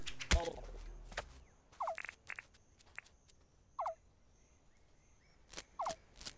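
A bird enemy in the video game Dinkum gives short, sharp squawking calls, repeated three times at a steady spacing, with quiet gaps and a few soft clicks and thumps between them.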